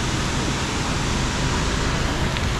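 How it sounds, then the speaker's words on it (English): A waterfall in Sri Lanka's hill country roars as a constant, loud, broadband rush of falling water, steady and unbroken with no voices over it. "Look at this waterfall. Incredible."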